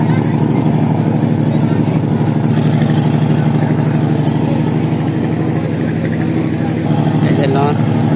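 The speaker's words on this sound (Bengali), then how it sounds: "এই যে লঞ্চ এই পাশ দিয়ে আসতেছে ঘাট করার জন্য।" Passenger launch ferry MV Tipu 6 approaching the ghat on a river near Dhaka, its engine a steady loud low drone throughout with continuous rumble and background bustle.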